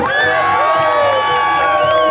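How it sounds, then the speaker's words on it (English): A crowd cheers and shouts continuously, loud and close, with high voices whooping over the noise. "You guys better cheer louder."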